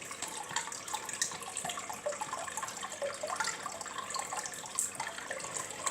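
A small amount of water pours and trickles steadily into a container while acclimating a fish for an aquarium, a close, continuous splashing without talk.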